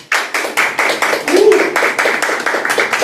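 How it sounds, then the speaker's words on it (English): An audience at an interview and Q&A session claps in a steady, fairly close round of applause with distinct rhythmic hand claps, and a voice briefly speaks over it midway. "I'd like to have a nice round of applause, please."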